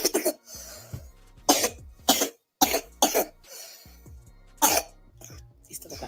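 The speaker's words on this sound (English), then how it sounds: "He still got that cough." A man coughs repeatedly in short, harsh bursts, several separate coughs spread across a few seconds with some throat clearing, close and fairly loud, with brief pauses and a little background voice between them.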